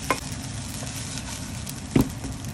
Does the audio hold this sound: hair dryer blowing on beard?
no